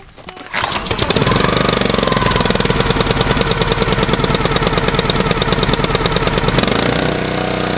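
Gas-powered engine with rebuilt carburetor and replaced fuel lines firing up near a firewood pile from a giant oak, catching quickly into a loud, rapid, chattering idle that runs steadily close by.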